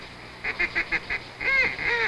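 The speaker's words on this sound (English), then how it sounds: "Remember, Lynn, now, lead your ducks when you shoot them." Waterfowl on a reservoir during a duck hunt give a quick series of nasal honks and quacks, about five short calls in a row and then a longer, drawn-out call, heard fairly close and clear.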